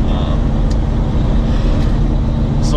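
A 1965 Chevy C10 pickup, lowered, drives on a cold morning with a steady low engine rumble and road noise throughout, fairly loud and close, with no talking.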